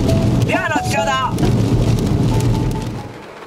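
Heavy rain pours steadily in a windy rainstorm in Minamibōsō, Chiba, a loud continuous hiss with a voice briefly heard over it before it eases slightly at the end.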